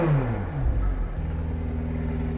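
A tuned 1100 PS McLaren 765LT engine revs hard on the throttle, climbing in pitch, then dropping into a steady, loud droning hum. It is close and unaccompanied by speech.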